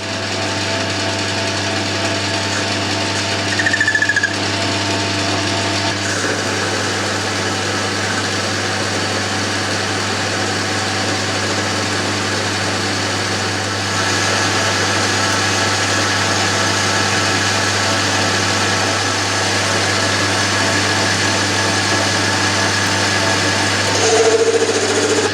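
A metal lathe skims the outside diameter of a bar held in the chuck, producing a steady low machine hum with a faint scraping cut layered on top, continuous and close, with no talk.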